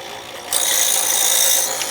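A fine grinding wheel spins up abruptly and holds a loud, steady, bright hiss of grinding close by for over a second before easing slightly.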